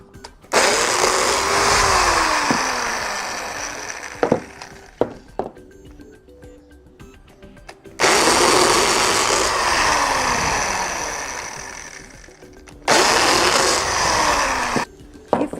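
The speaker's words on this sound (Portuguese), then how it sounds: "Agora com a furadeira eu vou furar o buraco do parafuso." A power drill whines loudly through wood in two long bursts, drilling screw holes in wooden crate slats, with a short drilling pass near the end and quiet handling noises in the gaps between.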